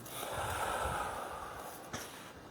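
Slow belly breathing done lying down with knees bent, as part of a deep core muscle exercise: one long, steady, airy inhale or exhale close to the mic, with a brief puff of breath near the end.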